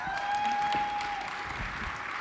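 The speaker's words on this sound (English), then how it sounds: "Everybody give Lisa a round of applause, please." An audience applauds for a speaker named Lisa, with a wash of continuous clapping at moderate level across the short stretch.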